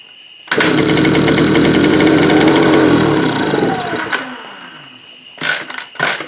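Honda Express moped two-stroke engine with oil injection fitted, buzzing loudly and raggedly for a few seconds before dying out, followed by a few short clattering knocks.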